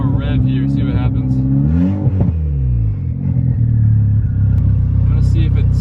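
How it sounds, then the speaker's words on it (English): A nearby turbocharged car engine running 5 PSI boost revs up sharply, holds, then winds back down to a rumbling idle before rising again slightly. "Let's give it one more rev here, see what happens."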